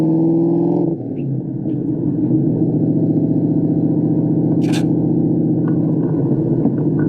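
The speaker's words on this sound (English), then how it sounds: "Good morning to take the Cobra out for a test drive." A 2003 Ford SVT Cobra runs on a test drive with a loud, steady, deep engine drone. The pitch drops after the first second, then settles into an even cruise, with a brief faint high chirp midway.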